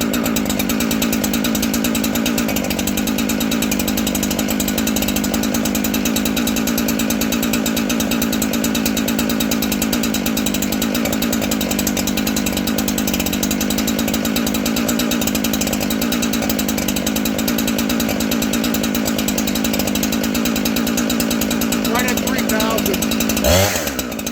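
A Husqvarna 372XP chainsaw runs at a steady idle close by, its buzzing two-stroke drone constant throughout and briefly rising near the end.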